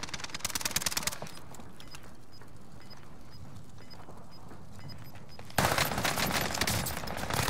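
Gunfire in a battle royale game: rapid automatic bursts up front, a quieter stretch with faint distant shots and beeps, then a loud sudden volley resuming near the end.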